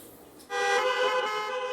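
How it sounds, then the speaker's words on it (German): Car horns blare at a drive-in concert held by a Cologne band, a sudden loud sustained honk from several cars at once, running on without any talk. "Hupen ist das neue Klatschen"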